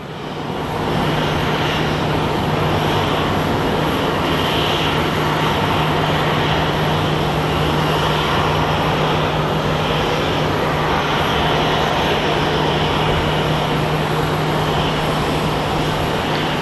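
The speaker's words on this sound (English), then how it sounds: "I could have sworn I saw another MD-11 coming in." An MD-11 jetliner arriving at Phoenix Sky Harbor International Airport makes a loud, steady roar with a low hum running through it, sustained throughout with no speech.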